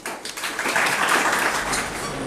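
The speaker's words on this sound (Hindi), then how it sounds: "मोहम्मद आदिल ख़ान, आपकी बहुत सारी तालियों में" Applause from an audience at a college ceremony in Multan, a steady wash of clapping that swells and holds for a couple of seconds without speech over it.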